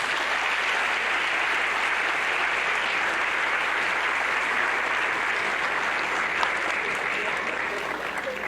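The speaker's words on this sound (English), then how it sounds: "let's give a hearty round of applause to the Honorable Justice Gillian Lucky." Sustained audience applause at a graduation ceremony honoring a justice's feature speech, a dense, steady wash of clapping from a large crowd filling the room without pause.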